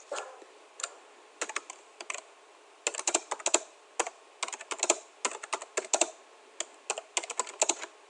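Close, clear keystrokes tap on a computer keyboard in irregular bursts and short pauses while data is entered into a spreadsheet cell, with no talking.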